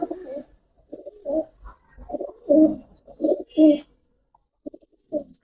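Chapchila pigeons coo in repeated low, throaty bursts, several rounds in a row with short pauses, close and clear against a quiet background.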